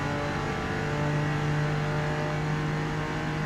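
A Porsche 914 6 engine held under steady throttle down the straight at Road America in Forza Motorsport, a constant droning mid-pitched engine tone with a strong harmonic hum, no talk.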